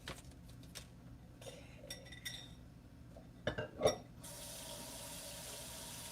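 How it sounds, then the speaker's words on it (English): Water runs from a kitchen tap into a sink, first with scattered clinks of dishes and cutlery, then a steady loud gush for the last couple of seconds; a voice briefly speaks. "Sorry for the water noises."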